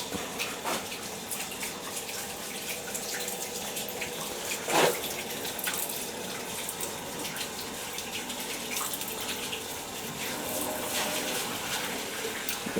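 Water pours steadily from the drain valve on a gas boiler zone, a continuous close hiss and gush with one brief louder splash partway through and no talk.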